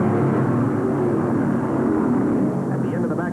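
Several 1962 NASCAR Grand National stock cars at full throttle down the backstretch at Darlington Raceway during the Southern 500, a steady loud engine roar that swells slightly as they pass.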